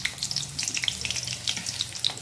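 Onions hitting hot oil in a pan during home cooking, a steady close crackling sizzle with dense small pops throughout the short stretch.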